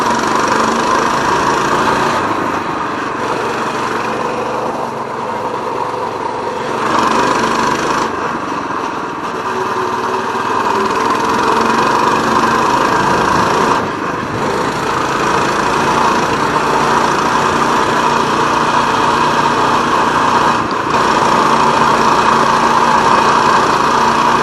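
A motorbike engine idles steadily to stay warm, a continuous mechanical drone with a rough, buzzing tone that stays loud and close throughout, with slight wavering in level and no talk.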